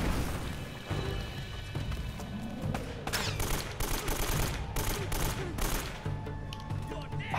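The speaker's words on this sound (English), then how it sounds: "I'm being shot from everywhere" Sustained gunfire from the Uncharted video game crackles in repeated overlapping volleys and sharp bursts over a constant din of combat, at moderate loudness.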